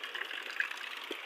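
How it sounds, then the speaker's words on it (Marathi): Rainwater pours steadily off the tin roof of a cowshed in heavy rain, a continuous close hiss and splatter with no talking. "हे बघा वरून यात पाणी पडतंय गोट्याच्या"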